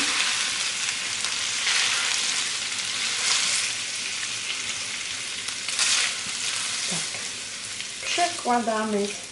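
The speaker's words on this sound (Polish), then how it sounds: "i teraz będziemy to mieszać troszkę mam mały garnek" A spoon stirs and scrapes through a thick, sizzling bigos of white cabbage in a small pot, steady and close, with a brief clink near the end.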